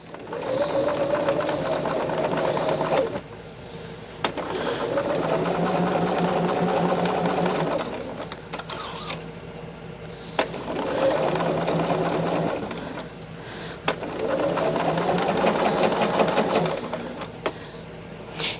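A sewing machine runs in several steady bursts of rapid needle chatter, stitching zippers onto bags, with short pauses between seams and light handling noises in the gaps.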